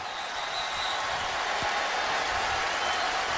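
A loud stadium crowd roars steadily at a Baylor football game against Texas Christian, a continuous broad wash of voices and noise from a packed stand with one brief thump partway through.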